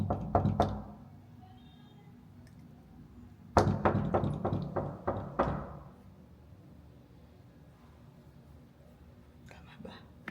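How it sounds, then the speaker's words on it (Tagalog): Knuckles rap on a hotel room door in short bursts: a few knocks, then a longer rapid series of about eight sharp knocks, later a faint final pair, with whispering voices in between. "Kanina pa din ako kumakatok sa room niyo."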